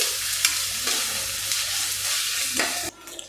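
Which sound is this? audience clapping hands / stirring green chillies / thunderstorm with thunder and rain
stirring green chillies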